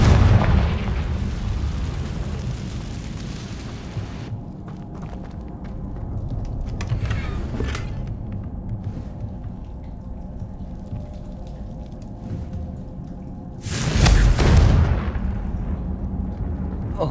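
Confringo blasting curse explosions in Hogwarts Legacy: a heavy blast at the start, then a quieter stretch of game ambience, and a second loud, booming burst near the end.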